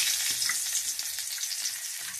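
Green chillies hit hot oil in a pan, giving a steady bright sizzle and crackle that holds close and fairly loud from start to end, with a few faint stirring bumps underneath.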